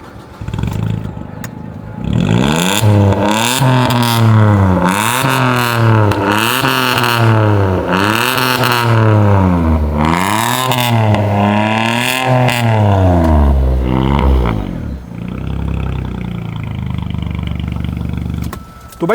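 A modified Maruti Suzuki Swift's exhaust revs repeatedly, loud and close, in rising and falling surges with a raspy burble, then settles to a steady idle.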